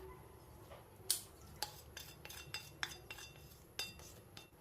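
A spoon clinks and scrapes against a metal bowl while mixing besan churma laddu mixture with cardamom, nutmeg powder and fried dry fruits, giving a run of sharp, close, irregular taps over a quiet background.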